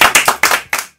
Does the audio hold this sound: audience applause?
yes